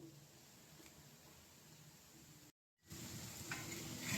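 Eggplant pieces fry in a pan over low heat, giving a soft, steady sizzle. It stops abruptly for a moment, then returns a little louder and fuller.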